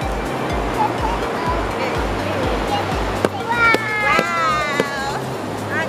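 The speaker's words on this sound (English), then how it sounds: "it's a big long beach" Surf rolls steadily onto a long sand beach at Tanumm Sand Beach near Gladstone, Queensland, a continuous close wash of breaking waves, with people's voices, including children, rising over it toward the end.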